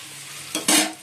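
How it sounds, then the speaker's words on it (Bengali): Potatoes frying in a pan give a loud sizzle that swells up abruptly partway through, with a stirring scrape at the start, then fade back toward a quiet kitchen background. "আলুগুলো ভেজে নিই"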